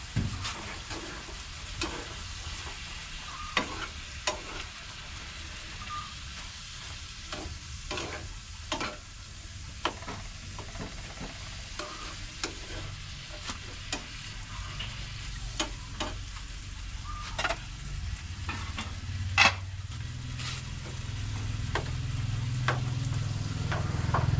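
Potatoes frying in hot oil give a continuous close sizzle, broken by occasional clicks and clatters of a utensil, with the bubbling growing louder and deeper toward the end.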